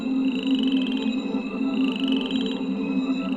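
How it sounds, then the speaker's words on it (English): Croaking frogs in a King's Quest 8 video game swamp, a steady pulsing chorus with a low droning hum beneath and a higher trilling call swelling twice, constant and fairly loud with no talking. "Let's see if we can get all the little frogs."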